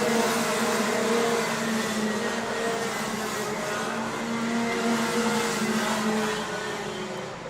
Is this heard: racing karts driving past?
yes